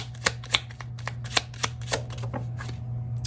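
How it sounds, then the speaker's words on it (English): Tarot cards being drawn and handled, with crisp flicks and snaps in a quick, uneven run, close up over a low steady hum. "I feel like grabbing one more here, and then we'll go ahead and grab some additional cards"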